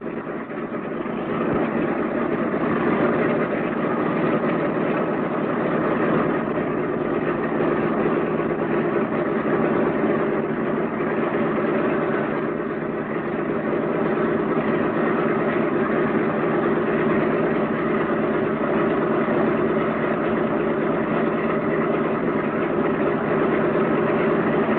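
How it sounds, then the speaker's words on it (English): Heavy B-17 bomber piston engines idle with a steady, loud, low rumbling drone that holds constant throughout, with no voices. "Throttle your engines all the way back and we'll get ready to taxi."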